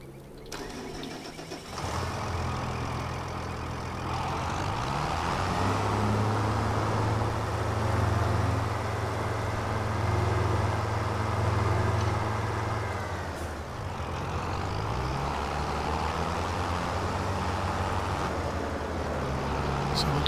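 A tractor engine in Farming Simulator 25 starts abruptly and settles into a steady, loud mid-pitched drone with a low throbbing hum, briefly dipping and then running on alone until the end.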